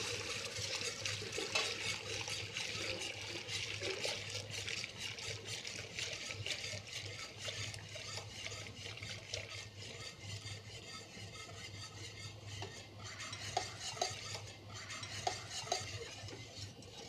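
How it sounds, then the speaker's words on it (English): Hot milk poured into a roux in a saucepan while it is stirred constantly to make a mother sauce, giving a steady close scraping and swishing with faint liquid sizzle throughout, and no voices. "gradually add the hot milk to the roux while stirring constantly to prevent lumps"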